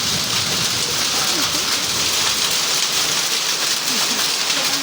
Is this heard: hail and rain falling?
yes